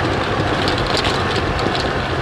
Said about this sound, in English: I really don't know if you'll be able to hear us with the engine.